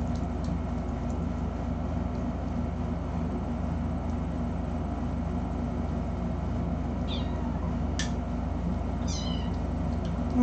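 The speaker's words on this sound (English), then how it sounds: "I know it's you, just from the meow." A cat meows a few times near the end, short high calls over a steady low rumbling background hum.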